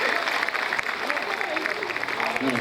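A seated audience at a religious discourse gives a burst of handclapping, a steady dense patter of applause at moderate distance with a voice mixed in over it.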